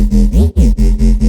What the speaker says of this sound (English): So like a Hamdi style bass